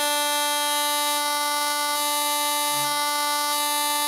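A harmonica holds a single steady note while the reed on the opposite plate is blocked. The tone is loud and sustained with a rich stack of overtones, heard alone without talk.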